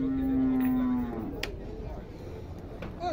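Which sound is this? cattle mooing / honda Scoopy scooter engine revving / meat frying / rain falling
cattle mooing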